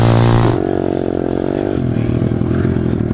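A dirt motorcycle rides easy practice laps around a track, its engine droning steadily close by with a shift in pitch partway through, loud and continuous with no speech.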